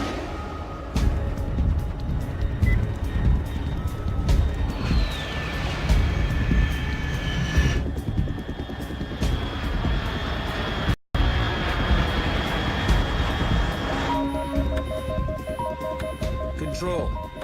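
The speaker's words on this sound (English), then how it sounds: "Control. Unidentified aircraft detected." An aircraft passes overhead in the Metal Gear Solid 3 video game, a steady broadband roar with a brief rising whine, heard beneath game ambience and a voice.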